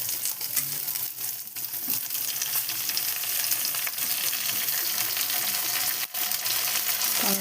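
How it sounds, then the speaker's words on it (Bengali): Cumin and onion frying in a pan for katla fish kalia, a steady close sizzle with faint scraping and clinks of stirring running throughout, no voices. "দিয়ে জিরে পেঁয়াজ ভেজে নিচ্ছি"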